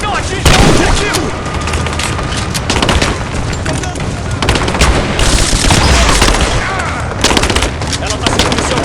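Explosives detonate amid a firefight in Rise of the Tomb Raider, with loud booms mixed into dense, close gunfire and machine-gun bursts that continue without a break.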